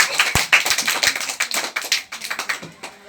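Children clapping in a classroom, a short burst of quick, uneven handclaps close by, sharp and scattered rather than in unison, with no talk over them.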